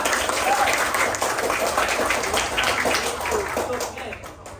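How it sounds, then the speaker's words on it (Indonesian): Classroom applause for group 2: a steady, dense patter of many hands clapping together for several seconds, fading slightly toward the end, with voices mixed in. "Berikan tepuk tangan untuk kelompok 2"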